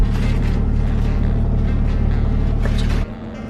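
A car on the move gives a steady, close, low engine drone and road rumble from inside, then the level drops suddenly near the end.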